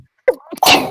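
A single sharp sneeze, close and loud, with a short intake before the burst.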